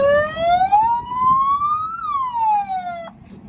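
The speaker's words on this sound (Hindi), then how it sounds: "एक बार हूटर की आवाज़ सुन लेते हैं" An aftermarket hooter siren fitted to a modified Alto K10 car wails loud and close, a single rising then falling electronic tone that sweeps up, peaks, slides back down and cuts off abruptly, with no voices.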